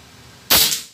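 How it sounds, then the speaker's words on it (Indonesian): A single sharp, close shot from a PCP air rifle at a silhouette target cracks out after a moment of quiet, then fades quickly. "Kita cek tembakan terakhir aja nih"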